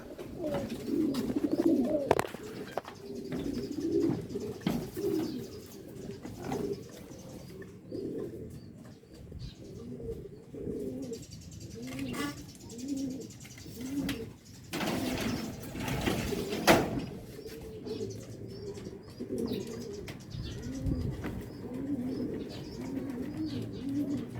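Racing pigeons, including a blue bar hen, cooing steadily in a loft, with low throaty rolling coos repeating throughout, occasional chirps and a brief burst of wing flapping midway.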